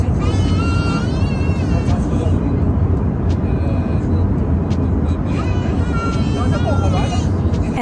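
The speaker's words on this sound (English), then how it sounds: "the flight was a bit loud." Loud, steady cabin roar of a Malaysian Airlines or Firefly flight from Kuala Lumpur to Kota Kinabalu, a dense continuous drone filling the whole stretch, with faint background murmurs.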